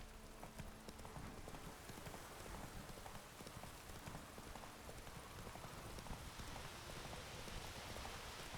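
Horse hooves clip-clopping at a steady trot in The Witcher 3, heard alongside a continuous hiss like rain, faint and even throughout with no talking.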